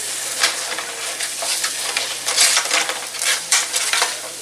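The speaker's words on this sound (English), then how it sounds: "I'm just going to stir this around." Chicken and seasoning get stirred around a hot pan, a constant frying hiss with repeated spatula scrapes and light metallic clatter, loud and close.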